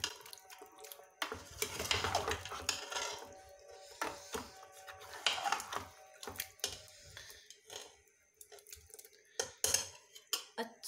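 A metal spoon stirs and scrapes turnips with meat being fried in a pot, producing repeated clanks and scraping bursts with light sizzling between strokes, close and fairly quiet.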